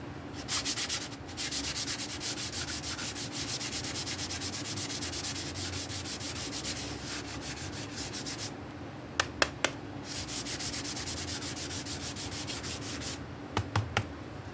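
Sandpaper of 400 grit on a block rubs across the body of a Leo Jaymz 7V guitar kit in steady back-and-forth strokes, with a few brief pauses and light taps between passes.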